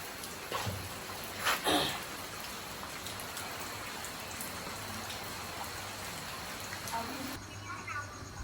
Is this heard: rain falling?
yes